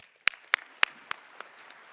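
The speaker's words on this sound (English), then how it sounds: "So please join me in a round of applause." Scattered claps at an awards luncheon: a handful of sharp, separate hand claps spaced about a quarter second apart, fading in strength, fairly quiet and close rather than a full crowd.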